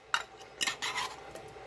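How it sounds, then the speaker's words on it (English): Canned solid white albacore tuna being shredded with a metal utensil, a few short scraping, clinking taps against a dish spread across a brief, quiet stretch. "I'm going to go ahead and start shredding up this albacore tuna."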